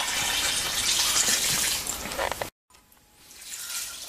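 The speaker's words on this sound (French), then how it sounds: "on va y rajouter entre 2 et 3 litres d'eau" Water pours loudly and steadily into a pot for homemade chicken stock, stops abruptly, then resumes more quietly and builds again, heard close and alone.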